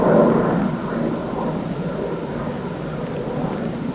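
The Concorde 02 prototype jet comes in to land after an early test flight, a continuous deep roar that holds steady and loud for the whole stretch.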